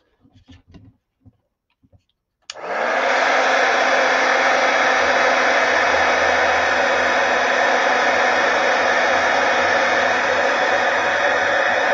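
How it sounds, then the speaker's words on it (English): A heat gun switches on abruptly after a few quiet clicks and then roars steadily with loud, constant blowing air until the end. It is used in a craft project involving gold foil. "get the heat gun"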